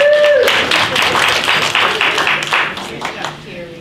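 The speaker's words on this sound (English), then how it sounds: "Another round of applause." Audience applause at a senior center writers' reading, a dense wash of clapping that swells at the start and slowly thins toward the end, with a few whoops and voices mixed in.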